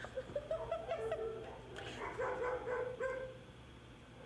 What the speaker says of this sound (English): So she does briefly bark at me.